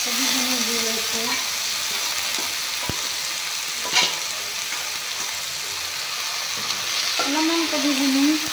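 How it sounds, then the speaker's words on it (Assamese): Cabbage frying in hot refined oil, a steady broadband sizzle with stirring clatter throughout, a sharp utensil knock near the middle, and faint speech-like tones at the start and end. "অলপমান কবিখিনি ভাজি ল'ম।"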